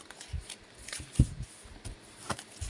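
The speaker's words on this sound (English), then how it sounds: "I'm going to shuffle these cards." A deck of cards being shuffled by hand, quiet soft riffles and taps in short irregular bursts, close and faint with no talk.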